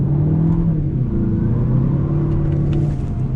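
A 2021 Mazda 6 Carbon Edition accelerates on throttle using the paddle shifters, its engine note a steady loud rumble that climbs in pitch with a shift change, heard from inside the cabin without talk.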